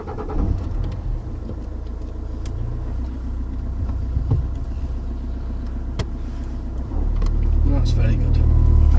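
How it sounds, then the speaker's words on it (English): A car engine rumbles steadily at idle, swelling louder near the end as it revs, with a person talking over it. "we'll start the vehicle up"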